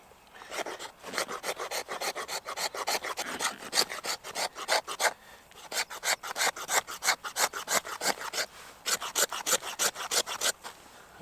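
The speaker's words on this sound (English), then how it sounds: "you can scrape your fat wood on something else to do dust or something" Resinous fatwood scraped with the spine of a Mora Bushcraft Black knife, a steady run of rapid rasping strokes in three bursts separated by short pauses, close and fairly loud with no voices.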